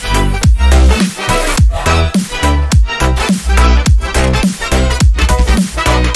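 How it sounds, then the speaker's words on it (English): Dubstep drop from a track: heavy, dense electronic bass with punchy dubstep drums hitting in a steady, loud rhythm across the whole stretch. "So then you add some dubstep drums,"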